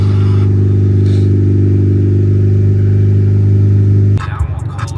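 A turbocharged Honda Civic with a custom full exhaust holds a loud, steady droning rev with a strong low hum, then the note abruptly drops and breaks up into a rougher idle near the end.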